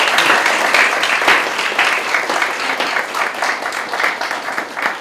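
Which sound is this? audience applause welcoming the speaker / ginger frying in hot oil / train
audience applause welcoming the speaker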